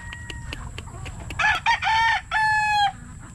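A rooster kept in a rural Philippine yard crows twice close by. The calls are loud and drawn out and stand over a hum of background noise and faint clucking.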